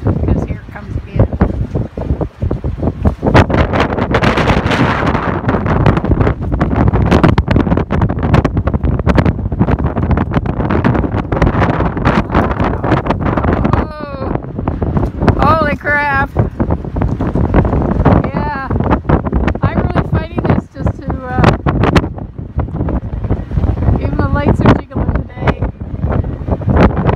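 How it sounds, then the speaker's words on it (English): Extreme wind along a river path with ice on the river, roaring loud and continuous against the microphone in heavy buffeting gusts, with a voice briefly heard in the middle. "we're going to listen to the wind, because here it comes again."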